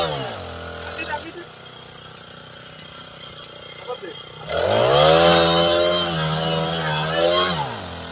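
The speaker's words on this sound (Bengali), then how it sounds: "আপনারা দেখতে পাচ্ছেন ডিজিটাল মেশিন দিয়ে প্যান্ডেলের খুঁটি বসানোর জন্য গর্ত করা আছে।" A motorized digging machine bores holes for pandal poles at an outdoor religious gathering ground. It idles low at first, then revs up loud and rough with a droning engine note that rises and falls, and voices can be heard faintly earlier.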